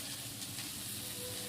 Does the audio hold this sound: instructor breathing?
no